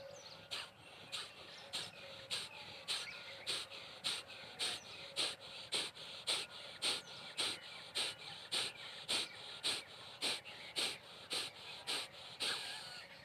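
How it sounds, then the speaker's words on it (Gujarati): Sharp, forceful exhalations through the nose in a yoga pranayama breathing exercise repeat in a quick, even rhythm, about twenty short bursts in a row, close and clear. "શ્વાસને અંદર નહીં પણ એકદમ બહાર ફેંકવાનો છે"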